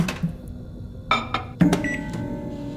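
A microwave oven in the Turkish indie horror game The Black Lamb hums quietly, then gives several sharp beeps and clicks, close and clear with no speech over it.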